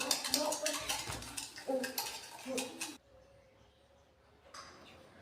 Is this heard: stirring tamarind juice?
yes